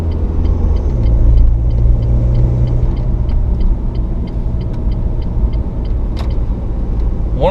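A Renault Megane 1.9 dCi with its F9Q diesel engine idles steadily, a continuous low rumble with a faint repetitive ticking above it and a brief higher squeak near the end.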